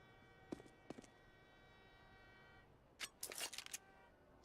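A train horn on the CS:GO Train map sounds as a faint, steady, held tone for a few seconds, then stops, followed by a short burst of sharp clicks and clatter.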